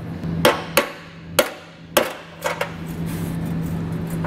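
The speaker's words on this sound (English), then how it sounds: "I think I'm actually going to have to get a hammer and just tap that the rest of the way" Several sharp metallic hammer taps on a tight carriage bolt into a 2021 Lincoln Nautilus frame during trailer hitch installation, spaced irregularly with a quick double tap near the end, close and loud over a low hum.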